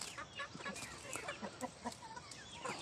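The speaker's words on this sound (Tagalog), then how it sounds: "ipapakita ko sa inyo kung gaano na karami ang ating manukan dito sa farm" Chickens on a poultry farm, a dense chorus of clucks and calls at moderate distance, continuous and fairly faint.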